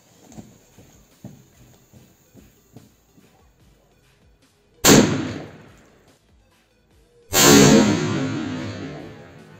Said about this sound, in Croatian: sljedeća petarda koju testiramo jeste eksploziv 3